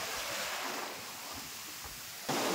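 Sea waves washing onto a quiet beach at Dublagadi: a broad, steady rush of surf close by, mixed with wind buffeting the microphone and rising into a louder gust at the end, with no voices.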